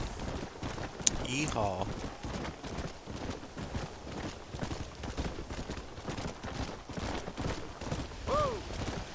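Horse hooves galloping in the Red Dead Redemption video game, a steady clip-clop rhythm under wind and game ambience, with someone shouting briefly near the start.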